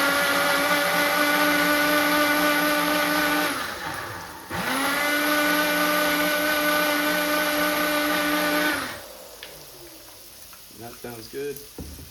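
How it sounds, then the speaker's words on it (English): A small Ninja personal blender whirs loudly with a high motor whine, stops briefly, revs up again for several seconds, then cuts off, leaving quieter clattering and faint voices. "This is like a little ninja blender."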